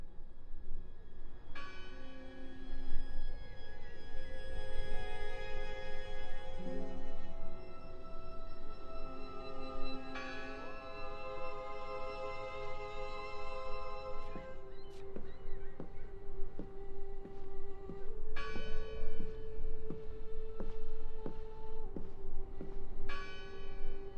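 A church-style bell rings steadily in the video game Draugen, its sustained tolling layered over a constant ambient wash, with further strikes later on, no voices present.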